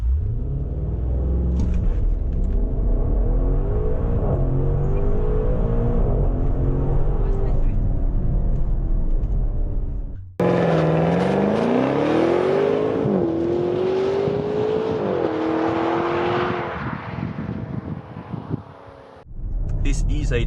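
A 2020 Maserati Levante GTS V8 engine roars through a launch, climbing in pitch through several gear changes, then restarting loud and close for another rising pull through the gears before cutting off.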